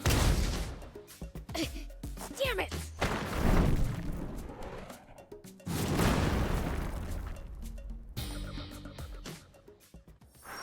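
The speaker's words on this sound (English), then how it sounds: "What was that just now? A cannon?" Heavy cannon blasts in the SandLand video game boom in loud, repeated bursts with thuds and debris, punctuated by a short shouted exclamation.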